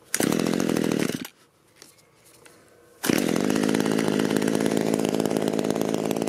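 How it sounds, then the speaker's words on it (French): A Parkside petrol chainsaw, hot-started by pull cord, roars loud and close, drops out for about two seconds, then catches again and keeps running at a steady high buzz. "Donc démarrage à chaud, on démarre et là on tire."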